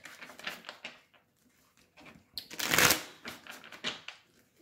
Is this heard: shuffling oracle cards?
yes